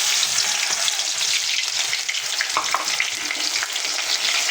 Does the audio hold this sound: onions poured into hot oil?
yes